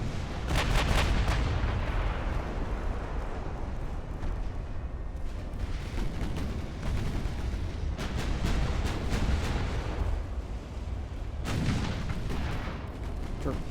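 Battleship main guns fire in the naval video game Ultimate Admiral: Dreadnoughts. Heavy, loud booms arrive in clustered volleys with rumbling echoes between them.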